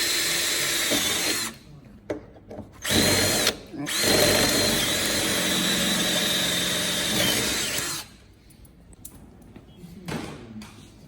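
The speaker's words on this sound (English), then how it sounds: "I can drill the other 2 out." A power drill drilling out rivets whines loudly in several bursts, stopping and restarting, with a long sustained run in the middle and quiet pauses between.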